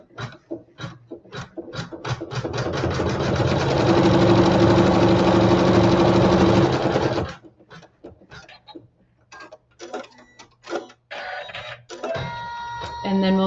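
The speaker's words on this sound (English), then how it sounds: "we'll sew the seam" A home sewing machine stitches a seam through lattice fabric with neutral thread, a steady loud mechanical whir for several seconds, then stopping and giving way to handling clicks and a voice talking.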